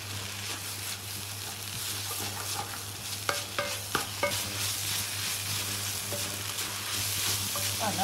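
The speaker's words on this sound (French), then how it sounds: "Mélanger et faire décoller toute la garniture de tomate et tout en bas." Brèdes mouroungue greens with tomato are stirred in a hot pan for a fricassée, making a constant loud sizzle with repeated scraping strokes of the spoon across the pan bottom.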